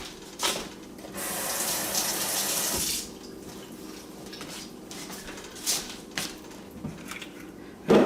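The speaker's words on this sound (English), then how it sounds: "Now I'm going to wash my hands off because I got eggs all over them." Running tap water splashes over hands being washed for about two seconds in a kitchen while cooking scrambled eggs, with a few clinks of dishes before and after, no talking.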